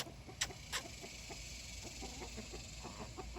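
Backyard chickens cluck softly in short, scattered bursts at dusk as they head in for the night, with a couple of sharper high calls early on over a steady outdoor hiss.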